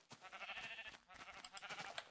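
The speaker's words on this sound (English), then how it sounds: "that sheep is black" Sheep bleating in the Minecraft video game: a couple of faint, wavering bleats in quick succession.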